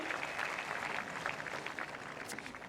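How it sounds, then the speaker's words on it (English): Crowd at a tennis event applauds a player's ATP Tour title win; a fairly faint, steady wash of clapping holds for a few seconds. "I think that deserves a round of applause"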